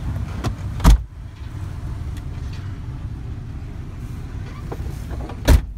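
A 1999 Chevrolet Blazer S10 with a 4.3 V6 drives along on a test ride, a steady low cabin hum broken by two sharp knocks, with no talking.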